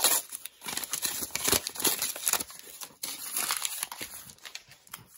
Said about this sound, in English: while I get the tape off here